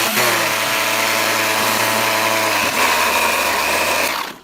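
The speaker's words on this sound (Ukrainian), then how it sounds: "моя торцювально-шліфувальна машинка" An angle grinder with a worn gearbox runs steadily with a rough, uneven motor whine and rattling undertone, loud and close, then briefly changes pitch before winding down.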